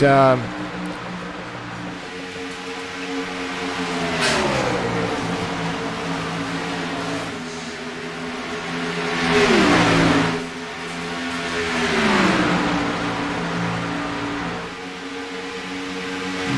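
Race cars in a racing video game on the Charlotte road course pass by with revving engines, rising and falling in pitch as they shift and sweep past, heard under steady commentary.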